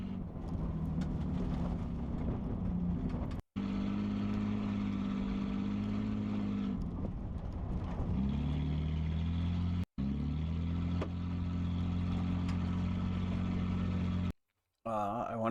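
A straight-piped car engine with no exhaust revs hard in a racing video game, loud and close, its steady droning harmonics rising and falling through several revs, broken by brief cuts to silence.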